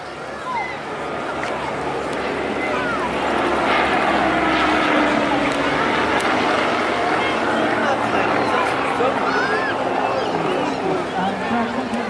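Hawker Hurricane WWII fighter making a flypast at an air show, its engine a broad, loud roar that builds and holds, with crowd and commentary voices mixed over it.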